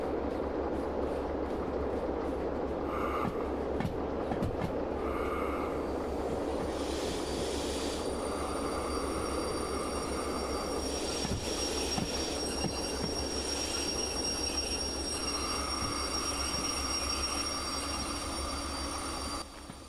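A locomotive rolls on rails in the Derail Valley train simulator game, giving a steady, loud rumble of wheels and running gear with faint metallic squeal tones throughout.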